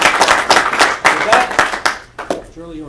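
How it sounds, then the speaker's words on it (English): Clapping at a university council meeting comes in a short burst of uneven claps, then fades out as a voice begins to talk. "it really deserves a little round of applause"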